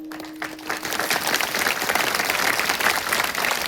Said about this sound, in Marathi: बरं झालं तुम्ही टाळ्या वाजल्या